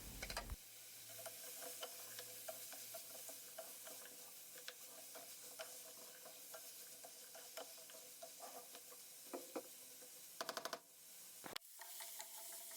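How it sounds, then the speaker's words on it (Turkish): Potatoes and carrots sautéing together in a pan while a bean stew is being made, a steady close sizzle with frequent stirring scrapes and clicks, and no voices. "Patatesleri, havuçları ekleyelim. Şöyle 1-2 dakika birlikte kavuralım."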